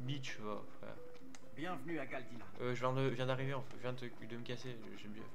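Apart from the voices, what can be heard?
None of the usual background noises is heard.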